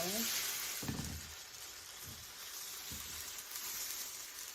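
Bread brushed with oil on top and bottom browning in a pan on medium heat, a steady soft sizzle with a few faint thumps as it is moved.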